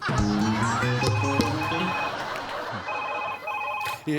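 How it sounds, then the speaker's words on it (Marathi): A telephone rings with a repeating electronic melody, loud and close, continuing steadily throughout with faint background voices. "आब्या फोन फोन आला"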